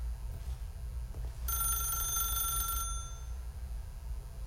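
Telephone in the video game The Stanley Parable rings once in a short electronic trill of about a second and a half, clear over a low background hum, with no speech.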